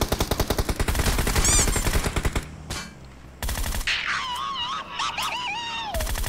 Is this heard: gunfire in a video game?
yes